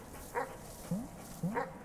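Dogs in a video game give three short yelping, whimpering barks, spaced apart and fairly quiet, over a faint background hum with no talking.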